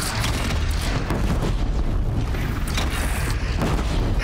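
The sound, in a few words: grenade launcher explosion in Horizon video game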